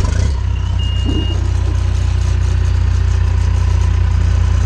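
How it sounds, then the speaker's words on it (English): A John Deere 450J bulldozer's engine running after being started: a loud, steady low diesel rumble throughout, with a brief high tone near the start. "you're going to fire it up by turning your key on"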